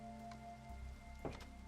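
Minecraft rain pours as a soft, even hiss of falling drops, faint and steady through a brief stretch, with one small clatter near the end and no voices.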